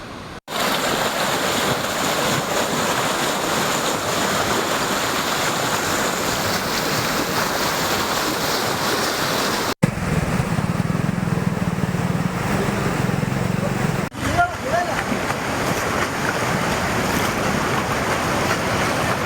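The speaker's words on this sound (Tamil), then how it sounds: "காலையில் இருந்தே பெய்து வரும் தொடர் மழையால் சாலைகளில் தண்ணீர் பெருக்கெடுத்து ஓடுகிறது" Heavy rain pours in Kanyakumari as floodwater rushes along the roads, making a loud, continuous broadband roar with no pauses and a brief shift in texture partway through.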